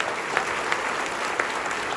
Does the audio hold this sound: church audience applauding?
yes